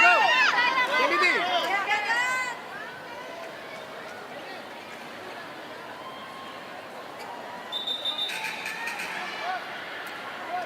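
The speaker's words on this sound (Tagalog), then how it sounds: "The crowd inside the Philoil Flying V Center in San Juan." The crowd in a volleyball arena at the Philoil Flying V Center in San Juan makes a busy hubbub, with sneaker squeaks and chatter at first that settle into a steady roar with occasional shouts.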